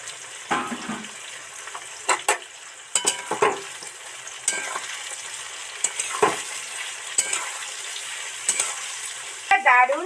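Soybean chunks and potatoes fry in a pan with a steady sizzle, broken by repeated scraping and stirring knocks and a brief clink near the end.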